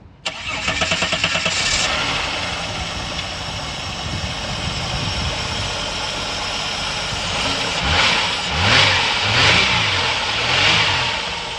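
A Holden Commodore V6 fitted with six new Bosch injectors cranks and starts, then settles into a loud, steady idle with a few rising revs toward the end.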